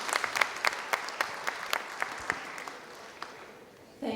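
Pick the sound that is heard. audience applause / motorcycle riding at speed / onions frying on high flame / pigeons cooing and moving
audience applause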